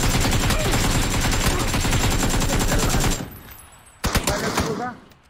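Dense automatic gunshots in PUBG, loud and continuous for about three seconds, then fading before a final short burst of shots.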